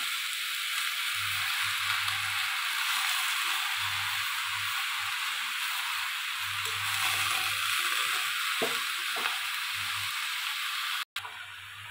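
Chopped spinach frying in a pan for a Bengali chhyachra (chanchra), a steady loud sizzle and hiss throughout with faint low thumps and a brief clatter near the end.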